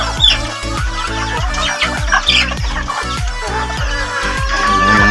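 Chickens and fighting cocks cluck on a farm in a repeated, rhythmic series of close calls, with brighter squawks and a distant crow mixed in.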